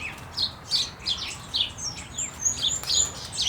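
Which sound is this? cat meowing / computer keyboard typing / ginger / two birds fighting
two birds fighting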